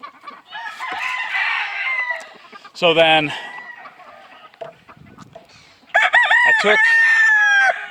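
A single-barred cuckoo rooster crows loudly nearby and clucks, among other chicken calls, with someone talking briefly over the birds.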